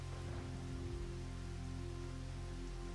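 Rain in the video game Eighteen patters softly and steadily alone over a low droning hum, faint and continuous throughout.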